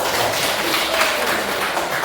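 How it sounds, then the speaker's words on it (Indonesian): A group of children clap their hands together in a dense, steady burst of applause that lasts about two seconds, loud and close, with no voices heard over it. "Kita tepuk tangan dulu."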